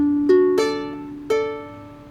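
A ukulele plucks the opening measure of Epona's Song from The Legend of Zelda, three clear picked notes and chords ringing out close and sustained, with no voices.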